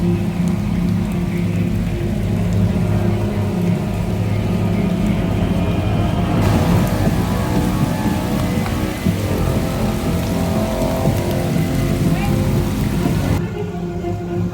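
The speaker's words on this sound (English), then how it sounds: "it's gone very rainy. A lot of the rides are now down because it's currently thundering showers at the moment." Steady, heavy rain pours down at the Alton Towers theme park during a thundery shower, a dense hiss of drops hitting surfaces that runs without a break from start to finish, with a low rumble of thunder beneath it.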